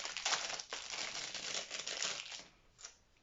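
A crinkly plastic package of washi tape, a 59-cent discount-store buy, is torn and opened up close: continuous loud crackling and rustling for about three seconds that fades slightly at the end, with no talking.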